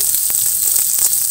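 Tomatoes fry with ginger-garlic in a pan, giving a bright, continuous close sizzle over the whole short moment, with faint scraping ticks.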